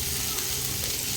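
Onion frying in a little oil with black cumin and a dried chilli in a wok, a steady close-up sizzle with a constant crackling hiss and no voices.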